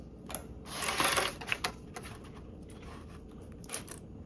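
A sewing machine stitches across the short ends of folded fabric in a brief whirring burst, followed by scattered clicks and taps from the machine and handling.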